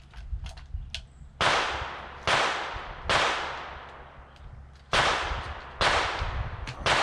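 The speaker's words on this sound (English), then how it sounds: "you are going to hear other gunshots. We are at the range" Five sharp, loud gunshots ring out at irregular intervals at a shooting range, each leaving a long echoing decay, with fainter distant shots from other shooters popping in between.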